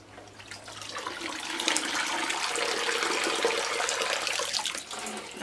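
Gotland wool, a third washing batch, is lifted out of its water bath, giving a steady rushing splash of water streaming and dripping that swells after the first second and holds, close, with no talk.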